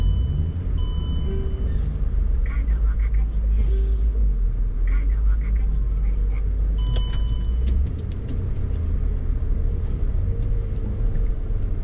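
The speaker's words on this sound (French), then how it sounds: "il y avait tout le temps du passage de poids lourds" Heavy trucks pass close by at a truck depot in France, with a deep, steady rumbling engine drone that stays loud and continuous throughout, and a brief hiss like an air brake near the middle.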